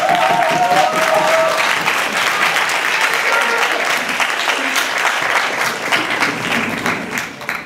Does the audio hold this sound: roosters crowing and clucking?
no